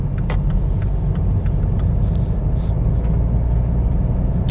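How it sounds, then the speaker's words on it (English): Steady loud city traffic rumble in Agadir's city center streets, a continuous low engine drone from passing cars with faint higher hiss and occasional brief clicks, heard from inside a moving vehicle. "Traffic."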